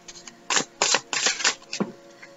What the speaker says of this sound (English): Okay, let's shuffle away.